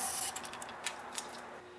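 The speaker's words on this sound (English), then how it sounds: "now I'm going to spray the engine storage spray or engine fogger inside the cylinder" Engine fogger storage spray hisses into the cylinder of a grass trimmer being winterized: a steady, quiet hiss, strongest in the first moment, followed by a few soft, irregular spurts. No one speaks.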